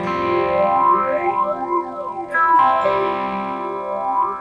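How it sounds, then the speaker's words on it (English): An electric guitar run through a synth's static phaser and a delay driven by a random generator sounds out as a loud, continuous processed tone with sweeping, swooshing harmonics and shifting echoes that change on their own, no talking. "For this sound, I'm using a phaser and a delay controlled by the random generator."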